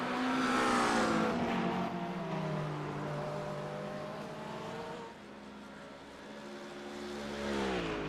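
GT3 race cars, a Ferrari pressuring a Porsche in a battle for second in a 24-hour endurance race, roar steadily at close range with layered engine tones that dip and then climb again as revs rise.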